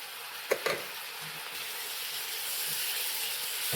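Chopped tomatoes tumble into a hot pan of egg bhurji, sending up a steady close sizzle with a couple of sharp splatting hits near the start, then a continuous hiss of frying.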